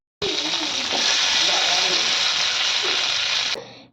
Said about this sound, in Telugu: కడాయిలో ఆయిల్ హీట్ అయ్యాక పలుకులు, పచ్చిమిర్చి వేసి ఫ్రై చేశాను